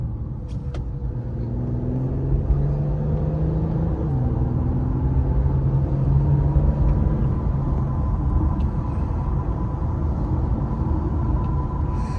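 A 2021 Infiniti Q50 Luxe accelerates on the road, a steady loud interior engine drone with rising tones as it gathers speed over continuous tire and road rumble.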